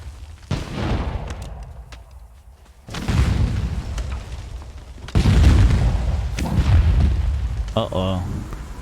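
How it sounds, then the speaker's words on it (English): Fireworks burst in the online survival game Conan Exiles, a series of heavy booms with rumbling tails, several loud blasts spaced a few seconds apart, ending with a short tonal crackle. "And we got some more fireworks going off."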